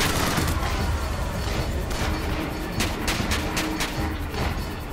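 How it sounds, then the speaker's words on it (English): Gunfire aimed at the Patriot in Bioshock Infinite crackles as a rapid fusillade of sharp shots over a steady rumbling combat din, with a burst of distinct cracks near the middle. "turn around and shoot the Patriot"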